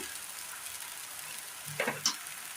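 Softened tomatoes fry in a pan with a pinch of chili powder, making a soft, even sizzle that ends in a couple of quick scraping clicks from a spoon.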